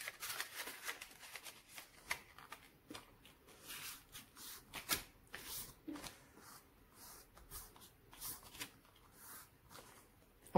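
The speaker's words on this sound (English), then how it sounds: "I am going to fold this paper or this square into three parts" A square of paper being folded into three equal parts, with close crinkling and rustling in short bursts and brief creasing scrapes throughout.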